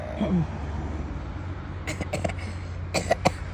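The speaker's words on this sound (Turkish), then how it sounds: "Bak öksürüyorsun gördün mü?" Someone coughs a few short times near the end, following a brief vocal sound and a stretch of quiet room noise.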